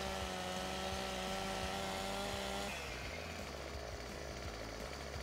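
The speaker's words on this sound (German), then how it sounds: "setzen wir jetzt die Säge recht schräg an" Chainsaw cutting a tree in the video game Farming Simulator 15, a loud continuous buzzing engine drone that shifts pitch midway as the blade bites, steady and close with no voices.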